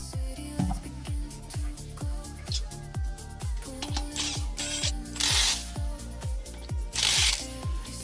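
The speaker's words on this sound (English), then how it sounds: "Tighten wheel lug nuts to standard torque." A ratchet wrench cranks rapidly and steadily while tightening the wheel lug nuts on an Audi Q3, its dense run of clicks close and loud, with a few bursts of hissing noise near the end.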